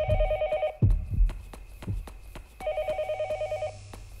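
Telephone ringing in the horror video game Yomawari Night Alone, a warbling electronic ring in repeated bursts broken by thumping footsteps, then the ring resumes steadily.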